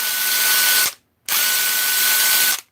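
A Freeman F20 brushless 1/2-inch impact wrench runs in two loud, steady bursts with a short pause between them, a harsh whirring hammer close up with no talk.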